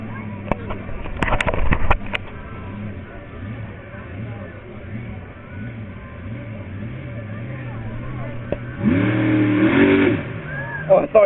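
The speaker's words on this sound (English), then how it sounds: "listen to supercharger surge" Monster truck engine at a 2015 fair in Topsham surging with supercharger whine, a steady rising-and-falling drone that swells louder near the end, with crowd noise and voices mixed in.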